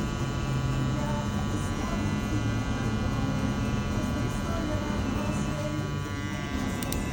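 Electric hair clippers cutting a burst fade in a barbershop, a steady close buzzing hum that runs continuously throughout, with someone talking over it.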